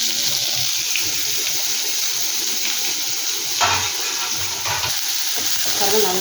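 Onion and greens sauté in oil for ragi adai, a continuous close hiss and sizzle with occasional stirring clatters and watery crackle, no talking.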